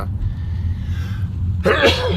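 A single adult cough bursts out late, loud and close, breaking an otherwise quiet indoor stretch with low background hum.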